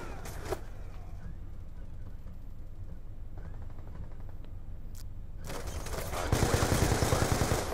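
Gunfire bursts in the video game Call of Duty Black Ops 2, with scattered faint shots over low game ambience, then a louder, denser burst of rapid fire near the end.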